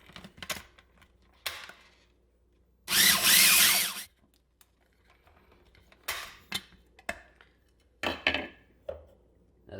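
A food processor blends homemade mayo into a fattoush salad in one loud, dense burst of about a second, set among scattered clatters and knocks of kitchen handling.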